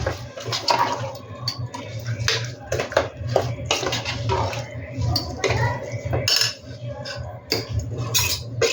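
Washed rice stirred together with masala in a metal pot for chicken biryani, with loud, close, repeated scraping and clinking of a spoon against the pot and a wet, gritty churn.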